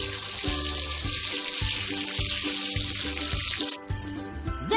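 Shower water runs steadily in a Christmas animal hair salon game while a reindeer gets washed, a continuous hiss over a repeating cartoonish music loop, ending with a short bright splash.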